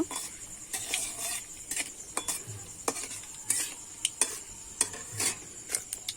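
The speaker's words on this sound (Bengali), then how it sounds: "আমি ভালো করে শুকনো লঙ্কাটা আর কালো জিরেটা একটু ভেজে নেব" Dried red chillies and nigella seeds fry in a pan, giving a faint, steady sizzle broken by sharp clinks and scrapes from repeated stirring, with no talking.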